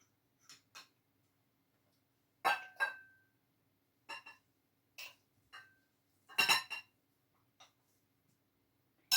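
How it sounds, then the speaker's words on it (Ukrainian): Minced meat for cutlets scooped back into a small bowl: sparse, sharp clinks and taps of a utensil against the dish in irregular pairs and clusters, close by, with near silence between. "Фарш я положу обратно в цю мисочку."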